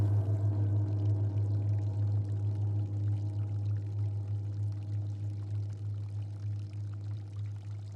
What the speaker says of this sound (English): you're just left with the comforting white noise of water trickling by harmlessly